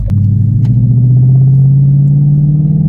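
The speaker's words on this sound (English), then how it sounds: "Okay, test drive, accelerating normally." A base-model Ford Mustang GT with a Wind Booster installed accelerates on a test drive in normal drive mode. Its engine drone is loud and steady, rising gradually in pitch, with no talking.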